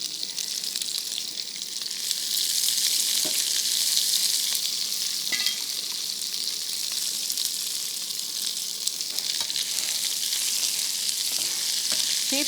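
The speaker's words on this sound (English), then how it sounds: "they're ready for the onions to go in" Onions sizzling steadily in hot oil for a Bengali dish, a continuous bright hiss with occasional soft stirring clicks, close up and without speech.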